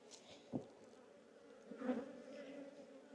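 Bees buzz close by at a busy, booming hive being opened before swarm season, a low steady drone with a couple of louder individual bees passing near, no talking.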